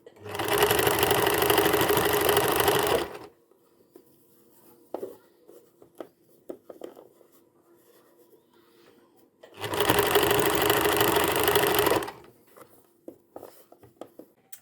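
A sewing machine stitches fabric for dog pajamas in two loud, close bursts of rapid whirring, separated by a quiet stretch with small handling clicks and rustles.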